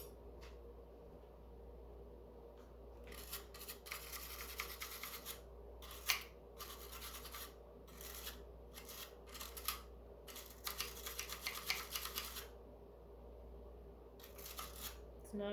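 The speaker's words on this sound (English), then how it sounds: "I'm going to take a wire brush and clean that real quick." A wire brush scrubs corrosion off AA battery contacts in a kitchen, giving quiet, scratchy bursts of bristle scraping that start and stop in irregular clusters against a low, steady background hum.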